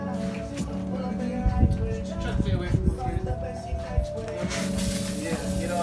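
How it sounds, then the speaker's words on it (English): Engine cleaner is sprayed across a Toyota Supra MK3's 2JZ-GTE engine bay in bursts of hissing spray, close by, with people talking over it. "Spray on this side."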